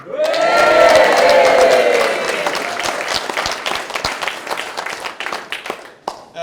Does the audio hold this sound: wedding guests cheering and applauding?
yes